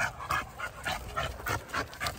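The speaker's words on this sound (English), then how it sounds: "Take these dogs walking, you know?" Several dogs on an outdoor walk pant in quick rhythmic bursts and let out small whimpers, close and moderately loud, with no talking.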